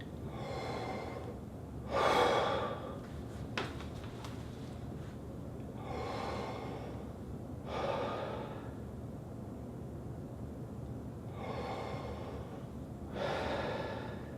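Slow, deep, relaxed breaths filling the lungs from bottom to top, with four long airy inhales and exhales spaced evenly apart and close to the microphone.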